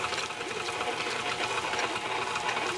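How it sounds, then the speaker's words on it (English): KitchenAid stand mixer beating cream cheese, a steady, loud motor whir with the clatter of the beater running continuously and close up, with no talking. "Now I'm using one of these KitchenAid mixers"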